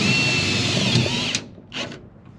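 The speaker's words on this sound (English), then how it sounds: "So now I'm going to pre-drill the holes." Power drill pre-drilling holes through a tongue and groove wood board into metal, a loud steady whine for over a second that cuts off, then a short second burst, close up.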